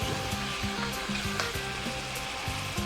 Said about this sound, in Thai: นี่ครับผัดไปผัดไปครับ